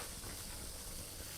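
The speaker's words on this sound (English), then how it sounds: "You guys can hear that sizzle, right?" Spicy Korean soft tofu stew (soondubu) sizzles in its pot with a dense, even hiss, steady and close, with no voices over it.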